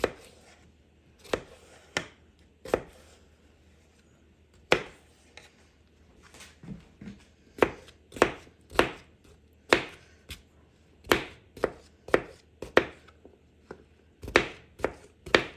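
A knife chops fresh vegetables, including an English cucumber, on a cutting board for a homemade veggie pizza. The sharp, close chops come in an irregular series, sparse at first and then quicker and steadier, with no talk.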